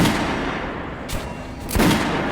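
Gunfire at target dummies on a shooting range in Metro Last Light Redux: two loud, sharp shots about half a second apart ring over a steady noisy background, with no talking.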